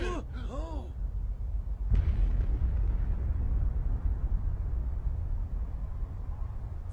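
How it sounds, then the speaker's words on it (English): A loud explosion from a cyborg anime episode, a broad rumbling roar that swells at about two seconds and rolls on steadily to the end, following a brief burst of sharp tonal sound effects. "What exploded?"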